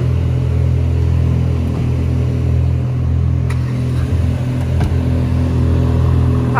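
Mercedes-AMG GT Black Series cars idle after starting, their engines warming up with a deep, steady, close rumble and no talk over it.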